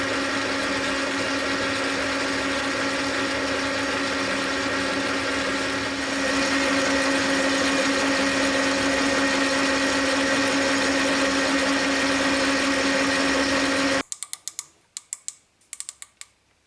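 A metal lathe runs steadily on a yellow power feed, giving a continuous mechanical hum with a strong tone for about fourteen seconds, then stops and leaves a few sharp, close clicks and taps.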